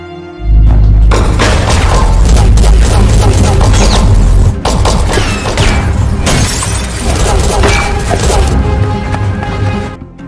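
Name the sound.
gunfire in a film shootout scene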